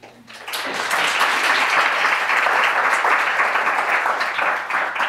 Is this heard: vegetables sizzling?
no